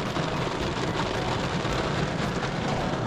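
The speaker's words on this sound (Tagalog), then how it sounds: "So ayan o, biglang ulan o." A sudden rain shower falls steadily outdoors, a dense, even hiss of drops on surfaces that holds constant and fairly loud throughout, with no voices.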